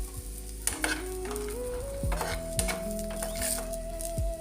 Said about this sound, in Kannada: ಇದರಲ್ಲಿ ಇವಾಗ ಫ್ರೈ ಆಗುತ್ತೆ ಇದು.